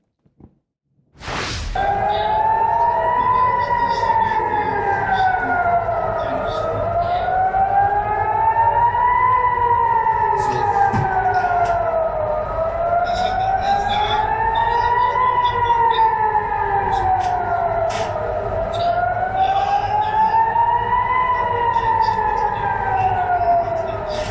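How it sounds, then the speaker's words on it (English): A loud wailing air raid siren in Jerusalem rises and falls in slow, steady cycles, warning of incoming rocket fire, starting abruptly after a brief click and sounding continuously at a distance across the open air. "that's the air raid siren in Jerusalem alerting people to incoming rocket fire"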